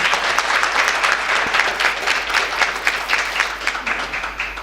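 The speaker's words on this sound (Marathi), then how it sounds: "तिच्यासाठी एकदा जोरदार टाळ्या होऊन जाऊ" An audience gives loud, sustained applause in a hall, dense overlapping hand claps rolling steadily throughout without pause, close and full.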